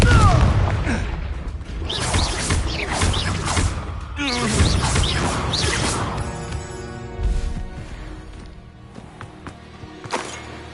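A Confringo fire spell blasts in Hogwarts Legacy, with loud crashing impacts and whooshing bursts in quick succession, followed by a ringing, humming magical tail amid game sound effects, with a voice calling out over it.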